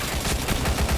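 Rapid bursts of video game gunfire, loud and close, rattling in a fast repeating rhythm for about a second with no talk.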